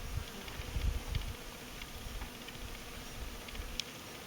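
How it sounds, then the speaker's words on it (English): Hundreds of wild bees work blooming buffalo berry shrubs in a coulee nature reserve, a faint, continuous buzzing hum with occasional nearer passes, over soft rustling and low outdoor rumble. "there are hundreds of bees in this stuff."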